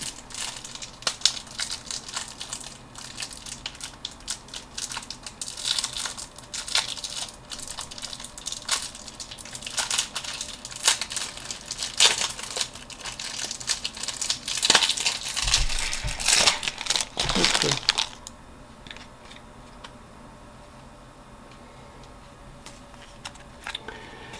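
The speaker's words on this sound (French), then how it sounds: "Alors j'ouvre juste le papier." Crinkling and tearing of a paper wrapper being opened on a Keyforge card deck, close and busy, with sharper rustles and crunches building toward the end before falling away to quiet.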